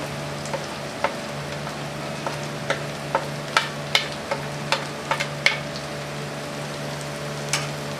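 Red chillies frying in oil for a ridge gourd sabzi, a steady soft sizzle under a low hum, with scattered light clicks and taps of a utensil against the pan.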